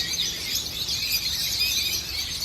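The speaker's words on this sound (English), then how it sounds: "They are all mostly parrots and other small birds." Small birds, mostly parrots, calling at a sea life park in Waikiki, Hawaii, heard from a distance as a dense, continuous high chatter of chirps with a steady murmur of background noise.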